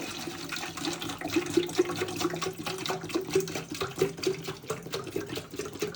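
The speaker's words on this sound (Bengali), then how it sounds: "এই একটা জারের ভিতরে আমি হাফ লিটারের মতো পানি ঢালবো" Half a litre of mineral water is poured into a jar, giving a steady, continuous splashing and gurgling stream that lasts about six seconds with no speech.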